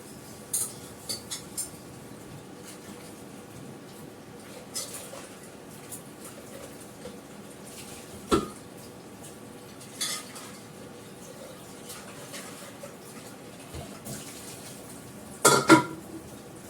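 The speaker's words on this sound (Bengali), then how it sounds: "এই প্রেশার কুকারটা ধুয়ে রাখবো, এটা নিরামিষ প্রেশার কুকার।" A vegetarian-use pressure cooker is washed and scrubbed at a kitchen sink, heard as quiet rubbing under steady background hiss, broken by scattered metallic clinks and knocks and a louder clatter near the end.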